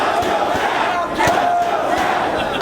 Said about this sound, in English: Crowd starting to get behind Hardy here.